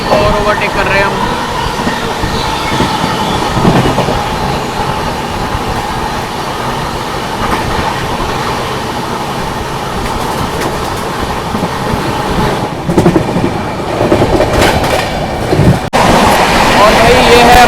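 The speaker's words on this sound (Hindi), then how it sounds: "इटावा जंक्शन के साथ साथ एक ट्रेन को और ओवरटेक कर रहे हैं हम" Humsafar Express running at speed past another train near Etawah Junction, a steady loud rumble of rolling wheels and carriage noise throughout, with a few sharper knocks late on and voices talking over it.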